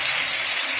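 Jute and water spinach greens frying in a pan, a steady broadband sizzling hiss with no pauses, close and fairly loud throughout.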